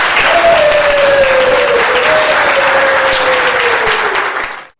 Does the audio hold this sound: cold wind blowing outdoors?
no